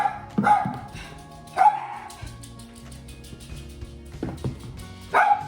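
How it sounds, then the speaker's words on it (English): Dogs bark several times nearby, a few sharp single barks spaced out over a quiet room background. "Sorry about the dogs barking."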